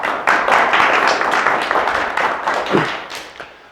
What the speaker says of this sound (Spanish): Tenemos un fuerte aplauso,